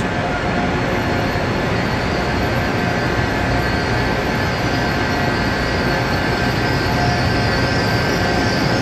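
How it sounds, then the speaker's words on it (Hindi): A train bound for Makkah rolls along with a continuous loud rumble and steady rail noise, faint high wheel whine overhead, heard from inside or close by with no talking. "ट्रेन जो है ये मक्का-तुल मुकर्रमा जा रही है"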